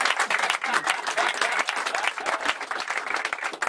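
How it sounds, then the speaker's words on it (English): Sustained audience applause for music producer John Leckie during an interview at Abbey Road Studios, a steady dense patter of many hands clapping at close range throughout. "You want to clap, please?"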